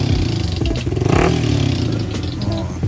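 A Yamaha R15 V4 motorcycle engine idles and revs through its muffler, a loud, rumbling putter with a brief rise in pitch near the middle.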